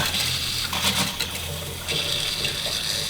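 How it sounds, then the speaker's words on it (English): Water runs from a tap in a tiny house built into a van, in a steady splashing stream, close by, with a brief dip midway before flowing strongly again. "We have running drinking water."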